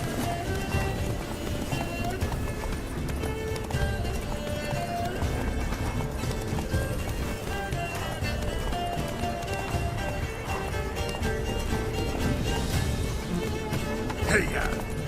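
Roach, the horse in The Witcher 3, gallops at a steady, continuous pace, hooves drumming close and loud under a busy game soundscape, with a brief whinny-like accent near the end and people talking over it.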